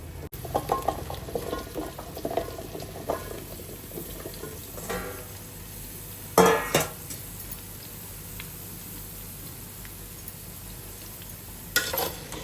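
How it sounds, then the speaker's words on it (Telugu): Pumpkin pieces drop into a pan of hot oil and get stirred for a Telugu pumpkin curry, with soft sizzling under a few sharp scrapes and clatters of a spoon against the pan. "ఇప్పుడు మనం ఈ గుమ్మడికాయ ముక్కలన్నీ ఇందులో వేసుకుందాం మనం"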